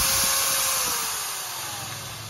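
An electric drill runs off a Bluetti AC70 portable power station, a steady whirring motor that holds close and loud for a couple of seconds, its pitch sliding slightly downward as it goes.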